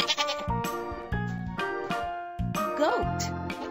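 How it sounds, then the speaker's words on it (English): Goat bleating in an animal-learning puzzle game, several loud, close, wavering bleats in quick succession, each a short nasal cry separated by brief pauses, with no speech. "Goat."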